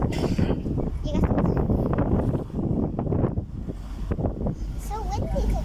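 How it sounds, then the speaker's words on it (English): Strong outdoor wind buffets the microphone on a very windy day, a loud rumbling roar that gusts throughout the few seconds, with voices talking underneath. "so windy today."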